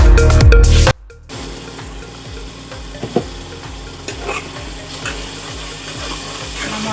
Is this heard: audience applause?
no